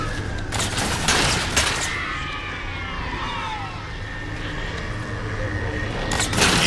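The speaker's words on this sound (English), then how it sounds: "I keep hitting these jackals with my plasma pistol and their shield doesn't go down" Plasma pistol fire in Halo, a rapid burst of sharp energy shots at the start followed by zipping whines and softer game noise, then another loud burst near the end, with no talk.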